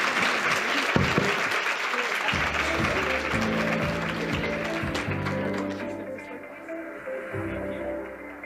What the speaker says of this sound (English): Let's give a round of applause to my sisters.